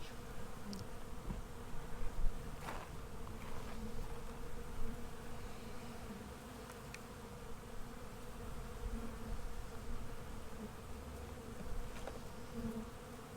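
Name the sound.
honey bees flying around an open hive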